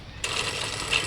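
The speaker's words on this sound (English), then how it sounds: "you can hear it jamming the blender somewhat" Blender grinding chunks of pineapple peel, a loud steady mechanical whir with rattling, clattering knocks as the pieces catch and jam against the blades, starting abruptly after a brief quiet moment.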